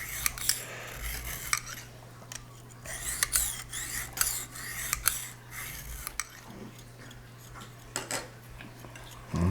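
Steady scraping and rasping strokes of a knife edge drawn across a Lansky hone, repeated with a rough gritty texture over a low constant hum.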